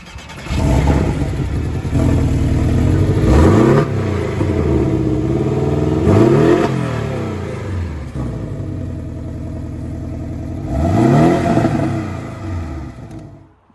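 Porsche 718 Boxster or Cayman S engine revving hard in repeated loud bursts, pitch sweeping up through the gears several times with brief lifts between, heard from inside the car with no talking.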